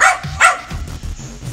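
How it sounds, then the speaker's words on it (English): Dogs bark through a high-pitched Snapchat voice filter: two quick, shrill yaps right up close, then a softer, muddled rumble. "the dogs barking sound like a bunch of yapping"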